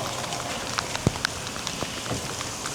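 Light rain falls outdoors on a farm, a steady soft patter with a few sharper drop ticks on a nearby surface or mic, continuous and fairly quiet with no talking.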